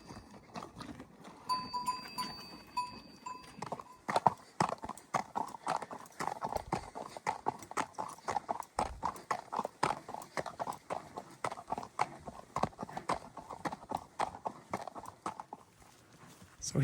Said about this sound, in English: I'm gonna ride Jake today.